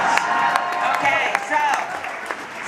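An audience at a presidential campaign event cheers and claps. The applause is loud and continuous, and voices call out over it.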